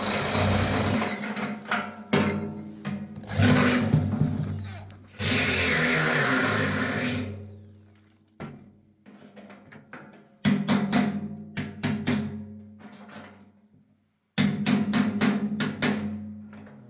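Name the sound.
drilling with a small drill bit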